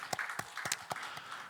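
Scattered claps from a church congregation applauding during an early-morning prayer service: a handful of separate, fairly quiet hand claps spaced unevenly apart.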